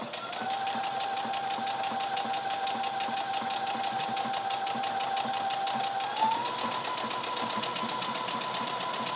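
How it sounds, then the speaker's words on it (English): Sewing machine stitching a zigzag buttonhole on an A-line skirt, a steady close mechanical whir with a faint tone that rises slightly near the end, running continuously without talk. "See, it's doing a zigzag stitch right now."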